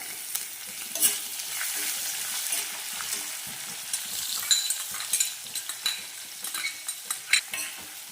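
Onions and green chillies frying in a pan of hot oil, a continuous sizzle broken by scraping stirs of a spoon against the pan, close and clear with no speech.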